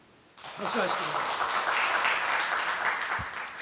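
A church congregation bursts into applause at an Advent candle lighting, a dense, sustained crowd clapping that starts abruptly and holds steady for several seconds.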